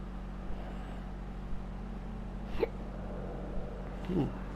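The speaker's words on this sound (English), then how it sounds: "Hiccups." Two separate hiccups from a character in the psychological horror game The Town of Light, one near the middle and one near the end, heard over a steady low droning hum.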